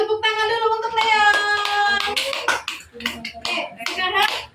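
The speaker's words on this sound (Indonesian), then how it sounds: "Oke, tepuk tangan dulu untuk Leo." Classroom of young students in a grade 2–3 Indonesian lesson claps hands together for a classmate, a mix of hand claps with children's voices and chatter over it throughout.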